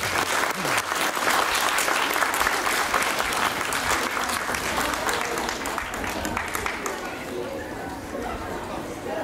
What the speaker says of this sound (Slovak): Takže aj im jeden veľký, obrovský potlesk